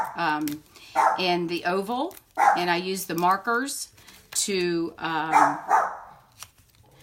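A dog barks in bursts in the background, mixed with people talking indoors and keyboard clicks.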